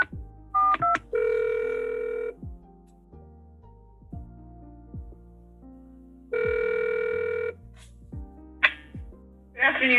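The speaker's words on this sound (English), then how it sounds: "I gotta make a phone call, I forgot." A phone is dialed in a courtroom during a criminal hearing: dial tone bursts alternate with quick keypad beeps, then short tonal chirps near the end, loud and close with no talking.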